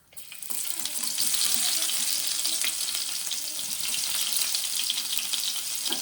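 Onion drops into hot safflower oil, and a loud, close, steady hiss of frying swells quickly and holds without pause, with no talk over it.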